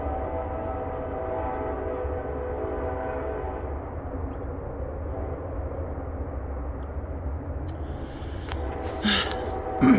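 A freight or passenger train passing near a garden in December rumbles past with a continuous low roar and droning tones, then ends in a few sharp clanks and bumps.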